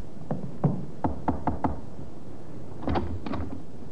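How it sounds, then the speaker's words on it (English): Knocking on a second-floor front room door as a radio drama sound effect: two groups of sharp wooden raps, five quick knocks, a pause, then a softer cluster of four, close and alone. "The sergeant knocked on the door of the second floor front."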